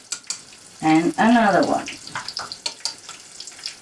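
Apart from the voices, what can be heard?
deep-frying vegan rice paper wraps with mushroom filling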